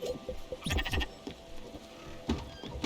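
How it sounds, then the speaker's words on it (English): Sheep bleating in the video game Spiritfarer, several short wavering bleats close up over a soft background, with no talking. "sorry sheep, I know you're hungry"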